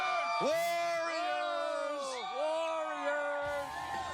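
Warriors fans fill a basketball arena on a Friday night, a steady roaring crowd with whoops and swelling cheers rising in waves, loud and continuous throughout.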